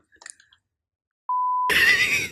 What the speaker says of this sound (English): I'll beep it out.